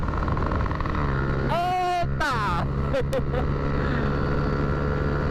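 A motorcycle fitted with an aluminium exhaust roars loudly and steadily up close, a continuous engine drone that holds throughout while a man calls out briefly over it.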